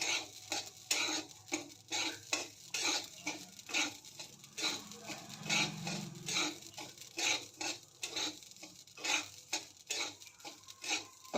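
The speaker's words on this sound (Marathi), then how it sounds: "अजून एक दोन मिनटं भाजून घेते" Rhythmic scraping and stirring in a pan, with light pattering of amaranth seeds being dry roasted and tossed, steady and close.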